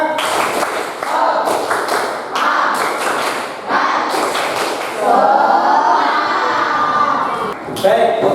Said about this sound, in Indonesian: mari kita tepuk semangat seperti biasa